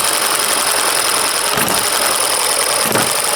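A small engine idling slowly after its governor spring was adjusted, a steady close-up rumble with a faint mechanical knock and two brief louder surges, no talking.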